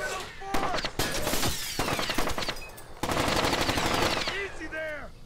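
Automatic gunfire rattles in the stealth shooter Splinter Cell Chaos Theory on PC, dense rapid bursts fired close and loud, with shell-like pings and game voices mixed in.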